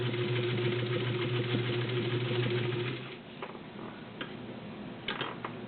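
A Morse 99K clone domestic sewing machine stitches through five layers of Levi's denim, a rapid, even mechanical ticking run for about three seconds, then stopping and leaving only faint clicks and handling sounds.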